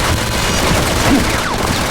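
Dense rapid gunfire from a firefight in the video game X-Men Origins: Wolverine, a loud continuous fusillade of shots with booms, with shouted voices mixed in.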